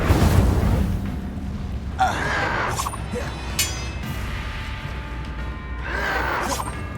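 An Incendio fire spell is cast in Hogwarts Legacy, a booming fiery burst with whooshing crackle over a layered game soundscape, followed by further flaring bursts and a soft voice.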